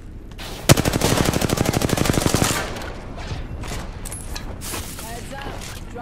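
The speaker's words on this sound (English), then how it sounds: "I'm taking shots. Opening fire." Rapid automatic weapon fire in a battle royale video game, a sharp shot followed by a dense, evenly pulsing burst of about two seconds, then quieter scattered game sounds.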